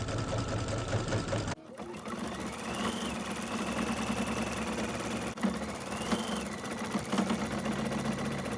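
A sewing machine runs steadily and close by while being threaded with orange thread, keeping a continuous mechanical hum that breaks off briefly once near the start and then carries on at the same level.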